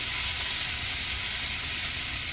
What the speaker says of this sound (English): I'm going to add back my green bean. Yes, That's what I want to hear.